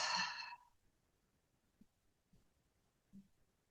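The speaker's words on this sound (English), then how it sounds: "then you're going to breathe it all out to get to the very, very end until there's no air left in your lungs" A deep breath exhaled completely during an energy-healing breathing exercise: one breathy, airy outflow right at the start, fading within about half a second, followed by near silence with a few faint soft thumps.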